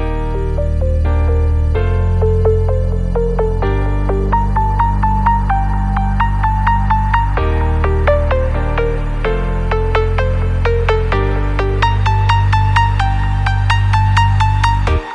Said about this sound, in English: Next, automate the pluck melody using Fruity Filter.